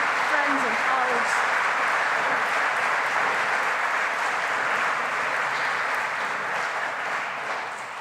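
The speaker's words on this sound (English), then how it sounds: "So one more round of applause and thanks to our Roman Catholic friends and colleagues" A church synod gathering breaks into a steady round of congregation applause, broad and even throughout, softening slightly toward the end, with a voice briefly audible at the start.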